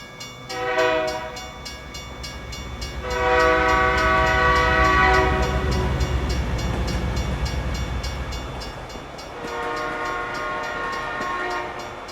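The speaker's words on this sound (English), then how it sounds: "Yes, there was a train." A train horn blasts in long tones over the heavy rumble of a passing train in a truck-driving video game, first briefly, then at length, then again near the end.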